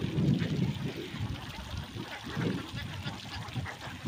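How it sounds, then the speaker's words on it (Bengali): Khaki Campbell laying ducks in a flock, giving low, rough quacking in bursts over a murmur of water, close by and moderately loud. "এই হাঁসগুলো অরিজিনাল খাকি ক্যাম্পবেল হাঁস,"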